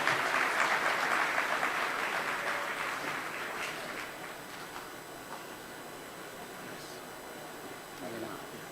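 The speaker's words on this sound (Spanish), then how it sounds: "un fuerte aplauso para recibir su enseñanza" Applause from the audience at a prenatal-care medical congress in Cochabamba as a doctor is welcomed: a dense wash of clapping that is strongest at first and then slowly fades into a hissy room tone.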